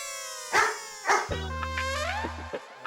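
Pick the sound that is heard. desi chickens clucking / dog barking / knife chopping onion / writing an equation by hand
dog barking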